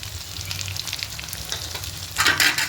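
Potatoes sautéing in a pan with ground cumin, turmeric, coriander, chili and ginger powder, giving a close continuous sizzle with stirring scrapes and a louder burst of frying near the end.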